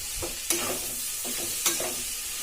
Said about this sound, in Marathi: मिक्स करून घेते